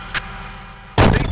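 Incoming artillery fire in the Steel Beasts Pro tank simulator lands as a sudden loud, booming blast with a rumbling tail, following a faint low hum and a brief small pop.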